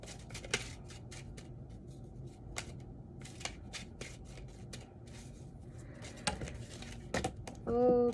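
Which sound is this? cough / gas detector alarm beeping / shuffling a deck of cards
shuffling a deck of cards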